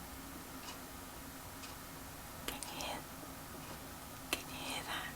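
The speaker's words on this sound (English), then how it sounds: "now I can hear is the clock in the background" Faint, steady clock ticks at an even pace in a quiet room, nearly buried under soft background hiss, with a couple of sharper clicks.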